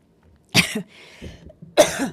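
Two harsh coughs sound close by, a short wheezy breath between them.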